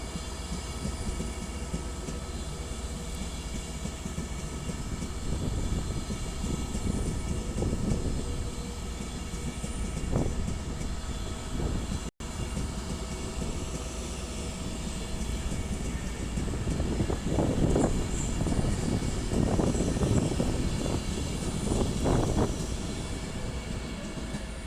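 London Northwestern Railway unit 390020 passes through Crewe station on the West Coast Main Line, a steady, fairly loud rumble of wheels and traction with rhythmic clatter building toward the end, no voices.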